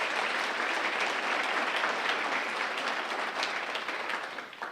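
A crowd at a teachers' awards ceremony claps for the catering staff, a dense, steady round of applause that holds for several seconds and then fades slightly at the end.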